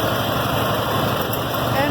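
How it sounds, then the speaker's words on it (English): The engine of a 1964 IH Farmall 706 tractor runs steadily at close range with a faint valve train clatter, a constant droning hum that continues without pause. "A little bit of valve train noise, nothing I haven't encountered before with the other 706 when it was gas"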